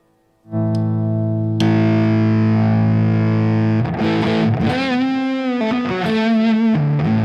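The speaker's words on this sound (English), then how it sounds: "it is a Big Muff circuit. And it's got a mid boost." Electric guitar played through a Past Effects Big Muff-circuit fuzz pedal with its mid boost engaged, a thick distorted sustained chord ringing out, then a searing lead line with bends and sliding notes, loud and alone.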